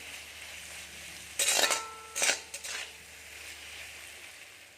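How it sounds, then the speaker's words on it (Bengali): Potatoes, soybean chunks and kohlrabi are stirred in an iron wok, giving two short bursts of scraping and sizzling clatter over a low, steady background. "এখন আলু সয়াবিন ওলকপি একসঙ্গে দিয়ে দিলাম ভালো করে মিক্স করে নিচ্ছি"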